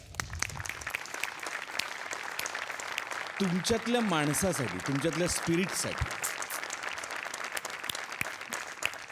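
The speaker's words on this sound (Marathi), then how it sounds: "सगळ्यात आधी जोरदार टाळ्या" Loud, sustained applause fills a comedy show stage, continuing throughout under someone speaking over it.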